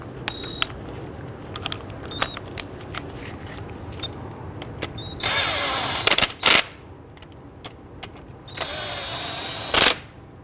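Power tool snugging down brake caliper bolts on a 2011-2017 Nissan Quest, with two short loud bursts from the tool among clinks and taps of metal parts in a garage.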